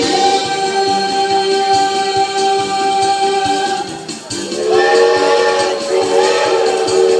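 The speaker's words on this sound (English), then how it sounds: "Did everyone hear the Walt Disney World steam train?" A loud, sustained Walt Disney World steam train whistle with several harmonic tones, blowing continuously, briefly dipping midway before sounding again, with chugging rumble beneath.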